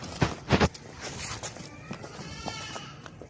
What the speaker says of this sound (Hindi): बहुत ज़बरदस्त बड़ा मक्खी चीना बकरा है, लंबे कान वाला।